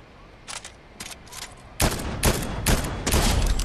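Rapid bursts of gunfire in the video game Fortnite, a few short volleys early on giving way to louder, denser sustained firing in the second half, with no talk over it.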